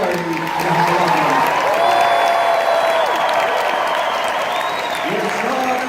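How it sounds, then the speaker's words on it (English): A convention hall audience at a Dragon Con panel applauds the arriving Venture Brothers guests, loud dense clapping that holds for several seconds with cheers and whoops, plus a faint feedback-like whistle over the crowd. "So a big round of applause for James Urbaniak, Mark Aguilera, and Hal Loveland."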